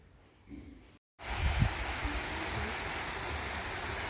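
A waterfall near a temple at Phu Dan Hai in Kalasin, Thailand, sends up a steady, loud broadband roar. A brief quieter stretch and a short silence come before the continuous rush.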